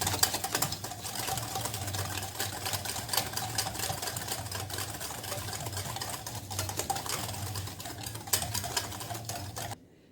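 An electric mixer whirs steadily through banana cake batter for about ten seconds, a close, even motor buzz with a rapid rattling texture that cuts off abruptly at the end.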